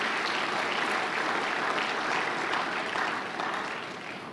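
A crowd claps steadily for a few seconds, the applause thinning slightly toward the end.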